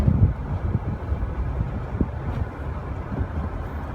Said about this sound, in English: On idle, you could hardly hear the diesel engine